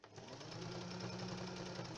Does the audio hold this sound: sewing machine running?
yes